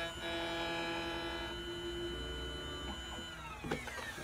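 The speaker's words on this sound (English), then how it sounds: "And right now we're cutting a key, and I'm going to show you exactly how it's done." A key cutting machine whirs steadily as it cuts a Chevy laser-cut car key, a sustained mechanical drone with a pitch shift partway through and a brief clatter near the end, with no talk.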